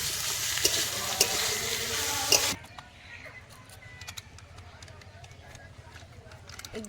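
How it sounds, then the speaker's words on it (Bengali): Vegetables and beans sizzle loudly in hot oil for fried rice, stirred with sharp scraping clicks, then the frying drops abruptly to a quieter crackle with sparse stirring knocks; a voice talks faintly underneath. "একসাথে মিক্স করে ভেজে নেব"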